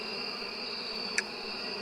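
Steady insect buzzing of bees in the APICO beekeeping video game, a continuous even drone with a faint high tone and one brief click partway through, no talking.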